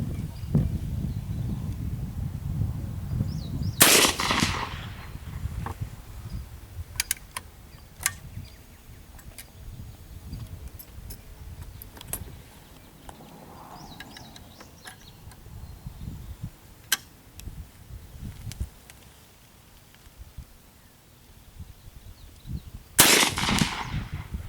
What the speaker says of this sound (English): load up something light for a kid to shoot out of a 45-70